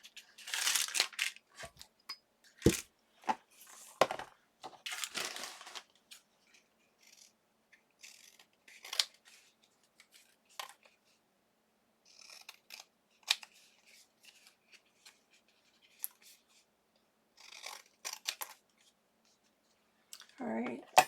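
Scissors trimming a paper craft piece, giving scattered crisp snips and crunching cuts in short bursts with quiet gaps between them.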